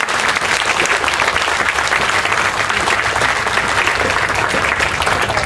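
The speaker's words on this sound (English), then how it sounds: "Big hand again, Robert." A large crowd of about a thousand people at an outdoor population protest in Singapore claps steadily, with dense, loud applause that continues unbroken throughout.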